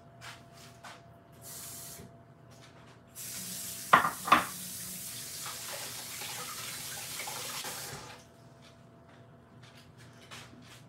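Water runs from a tap in a home kitchen during cooking, a steady hiss for several seconds, with a couple of sharp knocks partway through and no talking.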